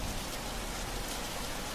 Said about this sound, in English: a light rain begins to fall. You hear the sound of small drops of water.